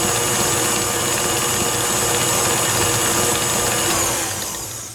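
An electric mixer beats chocolate cupcake batter, a loud continuous whirring drone held steady up close before it begins to fade out at the end.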